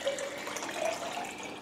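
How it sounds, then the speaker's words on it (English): Water pouring into a giant glass in a home kitchen, a continuous splashing, filling stream with faint rising tones, close and steady, with no talking. "Got my giant glass of water."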